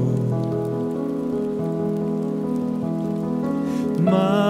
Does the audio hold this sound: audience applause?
no